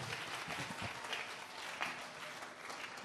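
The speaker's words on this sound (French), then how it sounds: "Acclamons très fort pour les voix." A church congregation applauds, a soft, steady patter of many hands from across a large room that keeps going throughout, ending in a louder thump at the very end.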